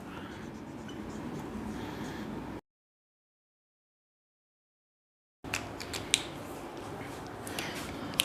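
Writing on a board during a physics class makes faint scratchy strokes in short bursts, broken by a complete silence in the middle.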